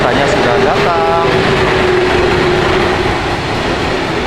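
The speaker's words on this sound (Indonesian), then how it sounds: "keretanya sudah datang" A double-decker train bound for Brugge pulls into a station, its steady rumble and a drawn-out brake squeal filling the platform at close range, with people talking in the background.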